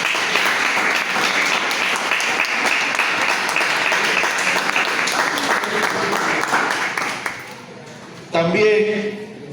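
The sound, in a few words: congregation applause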